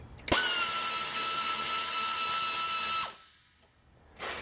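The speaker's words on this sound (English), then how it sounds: "A little 1/4" drive air ratchet. And that's going to hit this little 10mm bolt right here." A 1/4-inch drive air ratchet spins a 10mm bolt on a 2010 Toyota Corolla front strut job, a loud, close, whining burst lasting under three seconds that stops sharply, followed by a short hiss.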